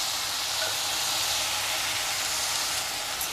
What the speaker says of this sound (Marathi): तर आपण हे छान असं परतून घेऊया आणि ह्यामध्ये आता थोडंसं आलं टाकले